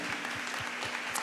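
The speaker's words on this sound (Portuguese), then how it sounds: "Você pode aplaudir a Jesus?" Church congregation clapping in rhythm, about five evenly spaced claps in a quick steady beat, with a faint continuous hum underneath.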